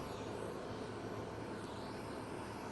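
An airplane engine runs steadily on the tarmac, a constant broadband roar close by with no pauses.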